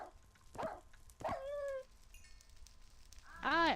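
A dog in the Minecraft modpack SevTech Ages gives a few short barks and yelps, spaced apart, ending in a louder whining bark, fairly close over a quiet background.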